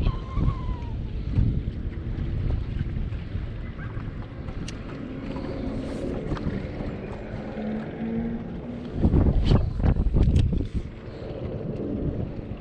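Wind gusts across open water while crappie fishing from a boat in spring, a steady rumbling buffet with hull and water noise underneath, and a stronger surge near the end.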